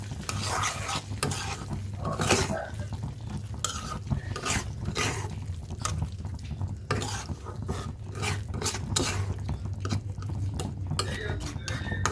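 Prawns are stirred and fried in a pan with spiced gravy for a prawn bhuna, a spatula scraping repeatedly over a steady sizzle, close and continuous.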